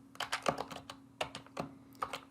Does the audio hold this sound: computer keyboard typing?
yes